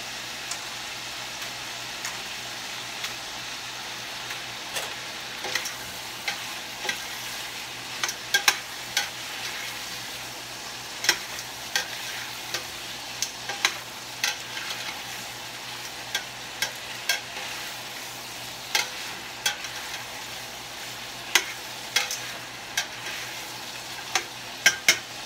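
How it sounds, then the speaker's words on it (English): Turkey tail searing in a hot pan, a steady crackling sizzle with frequent sharp pops and spatters, close and continuous with no talk over it. "We're also going to sear off our turkey tail."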